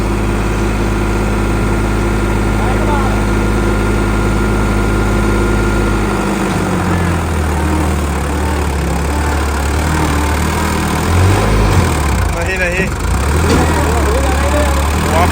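Farmtrac tractor engine, a Farmtrac 60 or Farmtrac 47 4x4, runs steadily and loud close by in a Punjab farm setting, its low diesel rumble shifting pitch partway through as if revving, with faint voices in the background.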